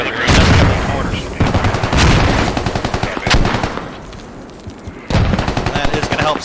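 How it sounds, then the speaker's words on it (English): Heavy mortar and gunfire in a Squad tactical shooter match, with repeated loud explosive bursts and rapid crackling shots that continue steadily for several seconds, alongside game chatter and casters speaking. "they're getting mortared over here. Mortars."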